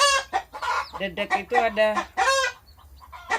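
Farm chickens cluck in quick, close bursts, with someone speaking Indonesian over them at times.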